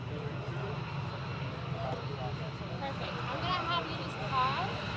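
An F-22 fighter jet taxiing at an air base, a steady distant engine whine and rumble, fairly faint, with people talking over it.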